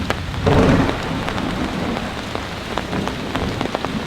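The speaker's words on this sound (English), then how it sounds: "it's getting windy, it's also raining rather hard, and it's beginning to come through the canopy here" Heavy rain during a thunderstorm drumming hard on a camping canopy, a dense close patter with a low rumble of thunder swelling early and scattered louder drips throughout.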